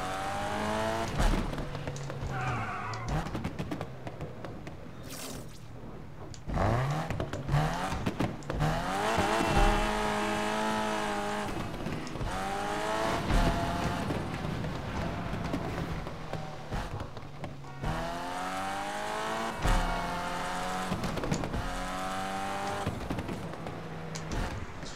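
Sustained engine drone and exhaust from a street car in Need for Speed Unbound, rising and falling through gear shifts over about 25 seconds, with tire squeal and background game sounds mixed in.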